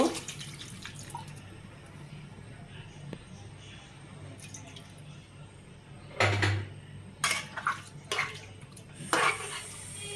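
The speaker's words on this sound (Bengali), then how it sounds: "পরিমাণ মতো পানি আমি দিয়ে দেব।" Water is poured into a cooking pan of simmering egg and potato curry, arriving as a few short splashing bursts over a low steady hum from the stove.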